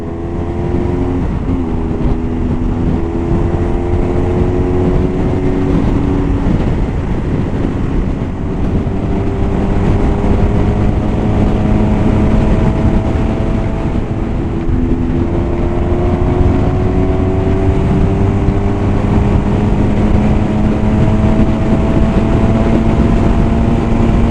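A car engine drones steadily as the car speeds up on a highway toward San Francisco, a constant loud hum with rising engine tones and road noise, no voices.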